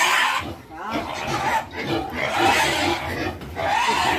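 A farm pig that has just been caught squeals and grunts loudly and continuously nearby, while people talk over the noise.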